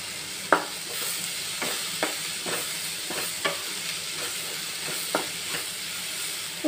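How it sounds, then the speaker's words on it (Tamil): Chana masala ingredients with salt sauté in a pan, giving a continuous soft sizzle with repeated sharp clicks and scrapes from stirring; no voices. "உப்பு போட்டு வதக்கிட்டு மூடி வச்சிடலாம்"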